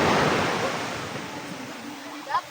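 Ocean waves wash onto a beach at Santa Cruz, Occidental Mindoro, at night beside a bonfire, a broad steady hiss of surf that is strongest at first and eases off, with wind noise on the microphone.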